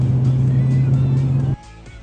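A BMW M3 engine rumbles loudly with a deep, steady drone close by, then cuts off abruptly near the end, leaving quieter background sound.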